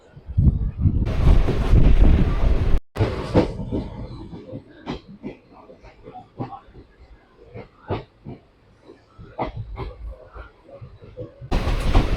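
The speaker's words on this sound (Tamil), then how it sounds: "நம்ம வண்டியுமே 1 minute ஹால்ட்டுக்கு அப்புறமா எடுத்துட்டாங்க." Nagercoil–Coimbatore passenger express train pulling away after a one-minute halt: steady rumbling and rhythmic clattering of wheels over rail joints, with a loud whooshing stretch early and near the end, and people talking over it.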